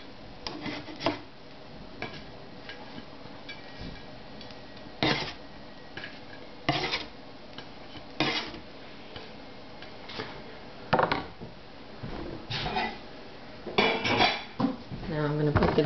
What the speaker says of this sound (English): I'm going to put these on a bigger platter because I'm going to put it in the freezer.